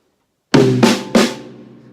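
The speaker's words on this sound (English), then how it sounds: "I'm going to use this middle tom-tom here." Three quick drum strokes in a triplet on a drum kit, the first on the middle tom-tom, loud and close, with the last ringing out briefly.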